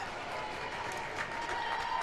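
A college hockey crowd at a Buffalo State versus Geneseo shootout attempt keeps up a steady, distant roar of cheering and clapping through an arena, fairly faint and continuous, with no clear voices standing out.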